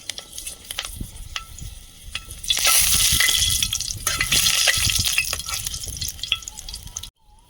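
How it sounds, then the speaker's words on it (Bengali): Panch phoron and dried chilli hit hot oil in a wok, first light scattered crackles, then a loud burst of dense sizzling that holds steady with stirring clatter before cutting off abruptly. "কড়াইতে তেল দিয়ে দেবো পাঁচ ফোড়ন শুকনো লঙ্কা"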